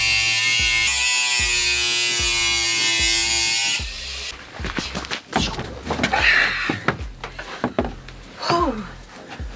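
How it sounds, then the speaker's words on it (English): A power tool grinds steadily for several seconds as it trims protruding bolts on a camper van roof during a roof fan install, then stops, followed by clattering handling knocks and talk. "trim down all of those bolts that are hanging out"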